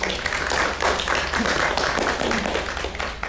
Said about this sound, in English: can all just give him a quick round of applause.